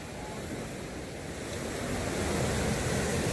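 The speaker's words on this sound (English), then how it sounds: "I don't know if you guys can hear me with all this current noise" Lake water rushes and churns steadily at a night fishing spot, a broad wash of current noise with wind buffeting the microphone, growing slightly louder over a few seconds, and nobody speaking.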